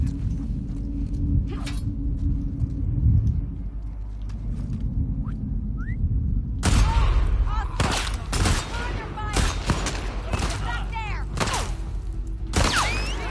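Gunfire from The Last of Us Part II, a burst of sharp shots and thumping impacts that begins abruptly midway after a quieter rumbling stretch, loud and close, continuing in irregular bursts to the end.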